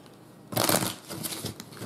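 Tarot cards being shuffled by hand: a brisk, papery riffle that starts abruptly after a quiet moment, then continues as softer, uneven flutters and slides, close and alone.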